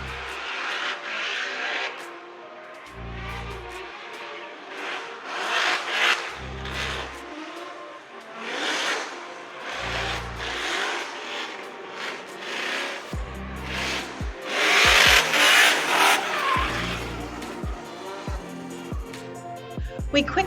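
Formula Drift Pro 2 drift cars on a damp track in Seattle rev and roar in repeated bursts, engines rising and falling at a distance with scrubbing tire noise, growing louder toward the end.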